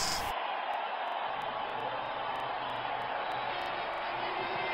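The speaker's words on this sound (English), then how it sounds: "Crowd going mad here." Stadium crowd noise in the cricket video game Real Cricket 20, a dense, steady roar of cheering spectators that holds loud and unbroken throughout.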